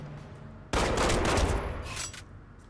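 Gunfire in The Godfather video game bursts in suddenly as a loud, sustained volley of shots, rattling on for well over a second before trailing off into a few scattered reports.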